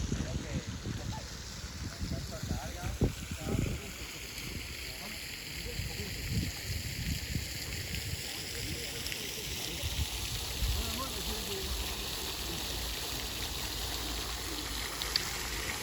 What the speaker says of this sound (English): main feature is this central fountain and reflecting pool